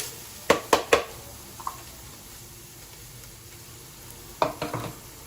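Vidalia onion sweating in a pan with a soft background sizzle, broken by two close clusters of sharp utensil scrapes and taps against the pan.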